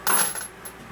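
A spent brass rifle cartridge case tossed onto a pile of other brass cases, one bright metallic clink with a short ringing tail, close and alone.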